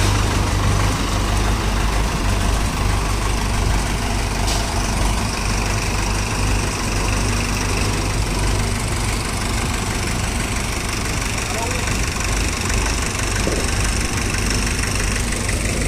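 An old tractor engine, started after about ten years shut inside a room, runs at a steady, rough idle with a low knocking chug, loud and continuous throughout with no talk.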